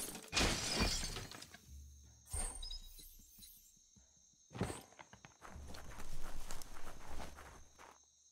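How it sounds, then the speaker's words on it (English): Wooden boxes are smashed in the video game Biomutant: loud, sharp breaking crashes in several bursts with crunchy debris and a few soft footsteps between them, no talking. "You shouldn't worry about smashing up the box."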